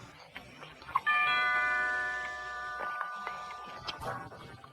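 A single electronic doorbell chime rings out clearly, its tones lingering and slowly fading over a few seconds in a quiet indoor room.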